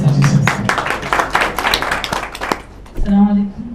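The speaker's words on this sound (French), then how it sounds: "On les applaudit." Audience applause at a press conference for an international chant festival in Mauritania, a burst of scattered claps lasting a few seconds, with voices before it and a speaker talking again as it fades.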